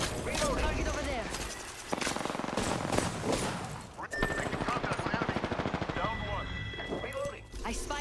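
Automatic weapons fire rattles in sustained bursts during an Apex Legends match, mixed with game effects and an in-game voice calling out, the shots dense and close.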